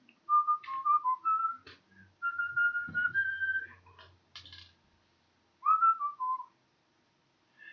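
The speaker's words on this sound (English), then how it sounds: "Whistling it." A person whistles a bright, melodic tune in short phrases separated by pauses, clear and close, with faint clicks of plastic building bricks in the background.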